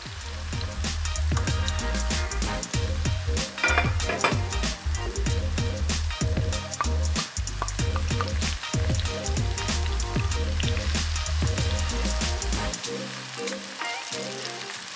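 Minced garlic sizzles steadily in a hot frying pan for a Filipino gising gising vegetable dish with tofu, a dense continuous crackle with frequent small pops, loud and close throughout before cutting off near the end.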